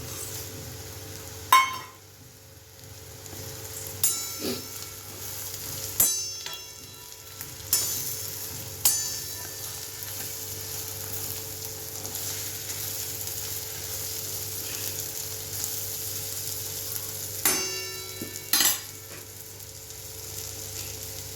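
Spicy sev frying in a pan with onions and spices, a steady soft sizzle running throughout with several sharp clicks and stirring knocks scattered across it, no voices.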